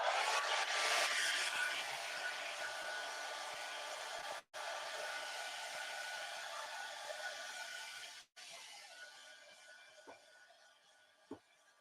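A hair dryer blows to dry paint on a gel print, a loud continuous rushing whoosh with two brief cutoffs before restarting, fading softer near the end.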